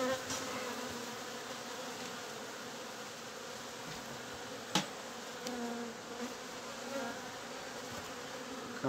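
Honeybees buzz around an open beehive in a steady, fairly quiet drone that lasts throughout, with a few brief louder passes close by.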